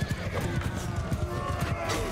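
Horses gallop across a battlefield in the Mount & Blade 2 Bannerlord video game, a loud, rapid run of hoofbeat clip-clops with whinnies and battle din, and voices mixed in.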